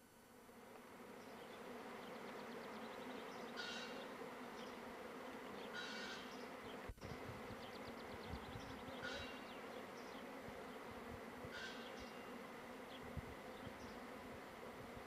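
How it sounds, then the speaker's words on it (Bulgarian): A swarm of honeybees buzzing across a garden, a dense continuous drone of many wings that stays steady throughout, with occasional closer bees passing by and no talking. "Цялата градина е осеяна с пчели."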